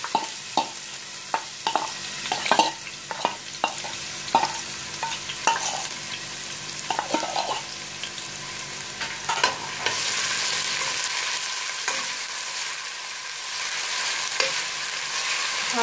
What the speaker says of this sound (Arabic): السمنه ساحت معانا اهي، نحط البصل اهي